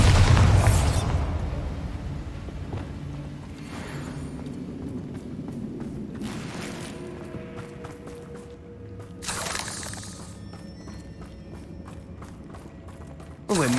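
Bombarda spell explosions in the video game Hogwarts Legacy, a heavy boom at the start followed by further bursts and crackling blasts amid ringing battle effects, loud and close.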